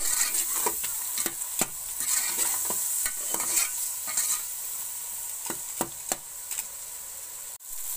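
Ground red chili and vegetables fry in a pan, a continuous sizzle broken by repeated sharp scraping taps of stirring, close and fairly loud with no talk.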